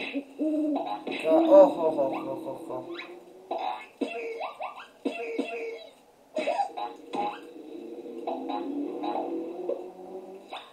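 Hooting owl sound effect in a Tom and Jerry video game, with repeated wavering tonal hoots in clusters, fairly loud and close, broken by short gaps.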